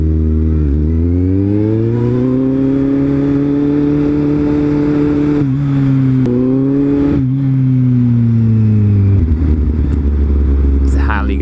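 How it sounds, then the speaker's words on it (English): A Harley-Davidson motorcycle engine rumbles loudly and steadily from close by in city traffic, with the revs rising and falling a few times and a deeper throttle surge near the end. "it's a Harley guy"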